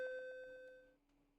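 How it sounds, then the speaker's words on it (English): A doorbell in a Japanese visual novel game sounds one bright chime that rings out and then decays, with no voices over it. "My doorbell suddenly rang."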